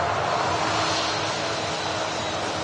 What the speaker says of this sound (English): biggest passenger aircraft in the world. Emirates A380 departing Manchester